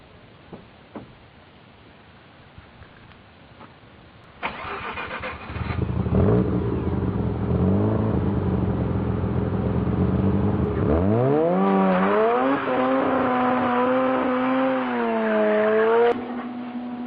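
A Mazda RX-7 rotary engine cranks and catches after a quiet stretch, then idles before the car pulls away, its engine tone climbing through rising and falling revs as it accelerates, loud and close.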